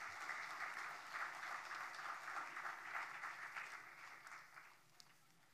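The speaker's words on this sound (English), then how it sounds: "A warm applause to all the people here." Conference audience applause at the Indian Ocean Conference 2018 in a hotel hall, a dense wash of clapping that rolls on steadily for several seconds before tapering off.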